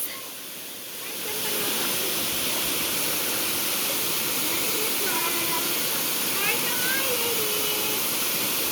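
Ng Tung Chai main waterfall in Hong Kong roars as a loud, steady broadband rush of falling water that swells in after a second and holds constant, with voices faintly under it.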